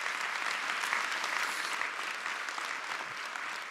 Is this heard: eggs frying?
no